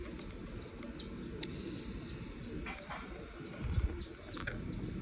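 Imported pigeons from Oman and Dubai give low, repeated coos mixed with brief chirps in a quiet indoor setting, fairly faint, with no voices.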